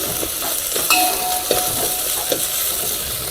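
Onion and coriander leaves fry in a pan for a village-style fish curry, giving a steady close sizzle broken by regular scrapes and clinks of a spatula.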